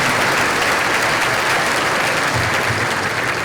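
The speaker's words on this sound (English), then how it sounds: "give yourselves a round of applause" Large crowd at a school district keynote event in Corpus Christi applauding loudly, a dense, sustained wall of clapping with no break.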